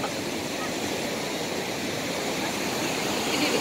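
Big ocean waves break at Pelabuhanratu beach in West Java, making a steady, unbroken roar of surf that fills the whole scene at an even loudness from start to finish.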